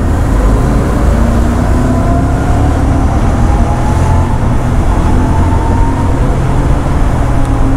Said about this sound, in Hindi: बाइक की आवाज़ सुनना तुम मेरी नहीं उसकी